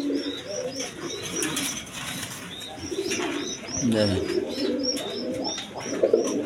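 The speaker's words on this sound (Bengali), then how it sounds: "একদম সুন্দর কবুতর," Pairs of white-beaked pigeons coo in repeated soft, throaty rolls, with faint chirps mixed in, while someone talks over them throughout.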